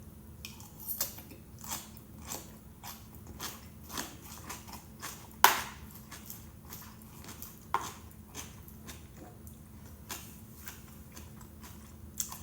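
Steady crunching and chewing of raw cabbage up close, bite after bite in an irregular rhythm, with no talking.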